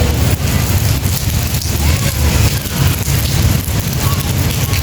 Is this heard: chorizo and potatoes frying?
no